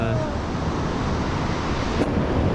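Sea waves break on a beach in Turkey in a continuous loud wash of surf with wind rumble, one wave crashing a little harder near the end.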